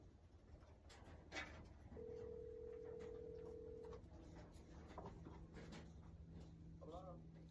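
A phone's ringback tone plays during a call, a steady tone around two seconds long, with room noise and a voice beneath it.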